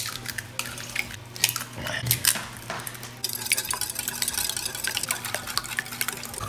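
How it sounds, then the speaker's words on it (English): Batter stirred in a separate bowl in a home kitchen, with steady scraping and clinking of a utensil against the bowl, close and fairly loud, alongside faint running-water and dish sounds. "Just mixing this in a separate bowl."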